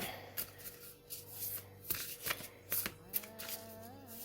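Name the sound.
shuffling oracle cards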